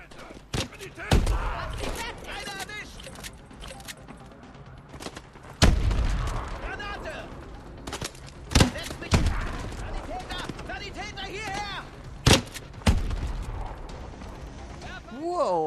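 Grenade explosions in Call of Duty Advanced Warfare fire as several loud, sharp booms spread through the battle, mixed with gunfire bursts and mechanical clatter, with voices talking in between.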